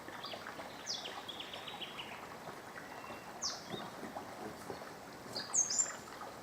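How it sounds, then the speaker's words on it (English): A tiny wren calling in the bush near Mount Superbus, giving a few thin, high chirps spaced across a steady background hiss, with a brighter, closer call near the end. "There's a little wren here, which is a little bird"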